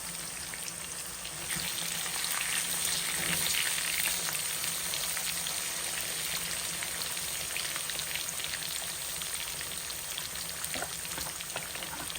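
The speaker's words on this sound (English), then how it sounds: "So we're going to let it fry, maybe 3 minutes on each side." Fish fries in a pan with a loud, close, steady hiss and crackle of hot oil, sputtering evenly for the whole stretch with no talking.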